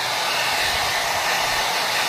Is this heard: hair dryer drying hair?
yes